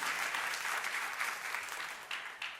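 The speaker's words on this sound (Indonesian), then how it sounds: "Tepuk tangan yang meriah untuk kemuliaan Tuhan." Lively applause from a church congregation during a sermon, a dense, continuous wash of clapping with no voices, fading slightly toward the end.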